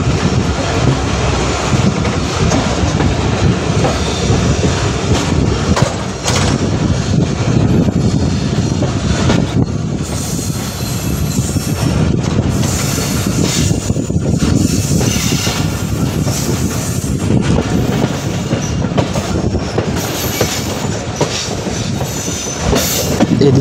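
The Titumir Express travelling from Chilahati toward Saidpur rolls along the tracks in a loud, steady rumble with rhythmic clickety-clack, occasional wheel squeal and wind buffeting the microphone.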